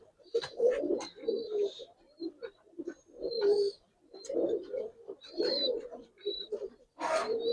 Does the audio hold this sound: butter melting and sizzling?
no